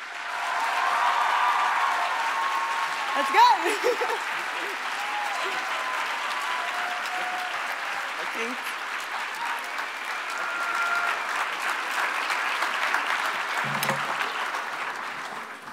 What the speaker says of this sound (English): give him, a legend, a round of applause as he joins our stage